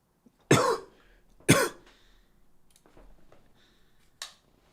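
Two sharp, loud coughs from a person come close together, followed by quieter throat noises and a final short cough, close to the mic with no talking.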